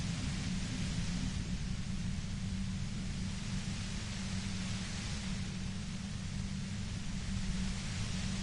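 Steady broadband white-noise static from the video game Disco Elysium, a constant hiss with a heavy low rumble underneath, even and unbroken throughout.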